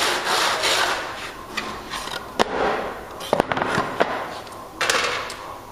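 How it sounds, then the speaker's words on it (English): A hand saw cuts down into a piece of timber to a gauge line for a door lining housing joint, giving steady close rasping strokes with a few sharper knocks. "our saw cut put into our piece of timber"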